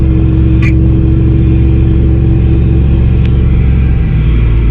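A mini truck's small engine runs loud and steady at full throttle, a continuous droning rumble with a constant engine tone throughout, no talking over it.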